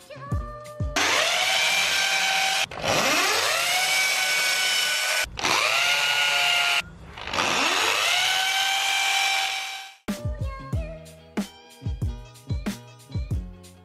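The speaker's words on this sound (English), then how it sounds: "we'll be going ahead and drilling holes in the wall" A power drill whines loudly in several long bursts while drilling holes into a wall, winding up and down between them, followed by a series of short clattering knocks and taps.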